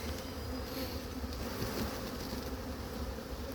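Honeybees swarm and buzz steadily as a new hive colony is opened in a community garden, a dense, close, continuous drone with no break.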